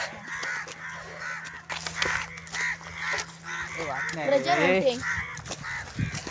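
Crows caw in a mangrove forest, a run of harsh, wavering calls rising over steady background noise and nearby voices, loudest toward the end.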